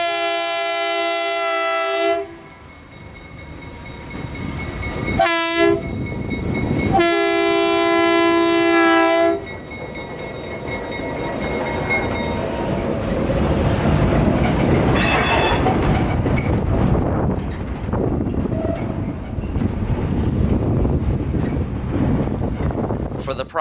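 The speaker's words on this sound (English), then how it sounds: "looks like we found the train" A train at the Florida Railroad Museum sounds a long, loud horn in repeated blasts, then rumbles and clatters past nearby with wind buffeting the microphone and a brief voice in the background.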